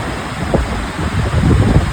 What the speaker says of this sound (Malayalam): വെള്ളം ഒഴുകുന്നത് ഭയങ്കര ശക്തിയില്ല